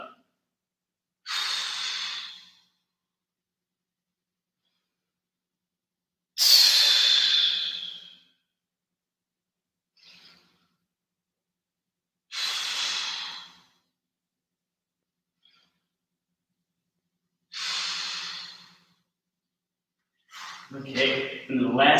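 Deep, audible breaths during a core and calisthenics workout, five long airy exhales spaced several seconds apart with silence between, close to the microphone, followed by brief movement or a voice at the end.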